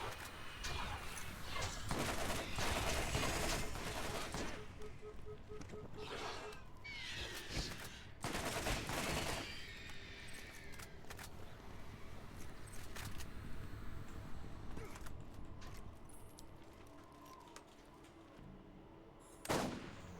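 Sniper rifle gunfire in the Borderlands video game rings out as a series of loud broadband shots and bursts over busy game noise.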